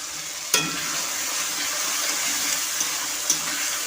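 Ground spice paste is added to tomatoes already frying in a pan for a green pea ghugni, giving a steady sizzle with a sharp splattering burst at the start and occasional stirring knocks.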